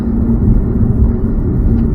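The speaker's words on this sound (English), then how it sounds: "we'll have a listen to the engine sound as well" A 2020 Alfa Romeo Giulia Quadrifoglio engine hums low and steady from inside the cabin while driving, forming a constant rumble with no distinct revs or gear changes.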